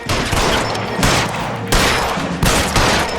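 Rapid bursts of gunfire from the video game L.A. Noire crackle loudly and densely, several overlapping volleys in quick succession with no pauses between them.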